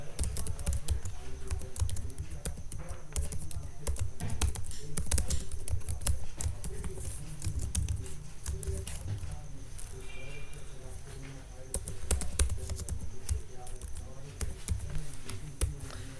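Steady, fast typing of code on a computer keyboard, a dense continuous patter of key clicks running throughout with only brief pauses, close and fairly loud.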